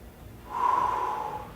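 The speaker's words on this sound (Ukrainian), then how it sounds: "Робимо глибокий вдих через ніс і видих через рот." A single deep breath drawn in through the nose during a spinal exercise routine, a soft, close airy rush lasting about a second, with no talking.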